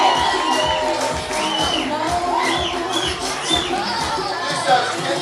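A pageant crowd claps and cheers for a contestant, a dense wash of applause mixed with shouts and chatter that holds steady throughout.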